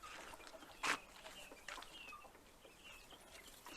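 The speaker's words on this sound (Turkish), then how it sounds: "Sanki şurada iki tavuk bir horoz." A few young chickens and a rooster cluck faintly in a farmyard, with one brief sharper call standing out among soft, scattered sounds and no speech.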